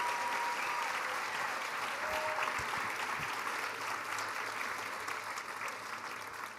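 An audience in Boulder, Colorado applauds steadily, a dense, even wash of clapping that holds for several seconds and tapers slightly at the end, with no talk.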